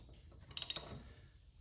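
A 5/8 socket wrench loosens the blade bolt on a Toro Super Recycler push mower, a quick burst of four or five sharp ratcheting clicks close by, with quiet before and after.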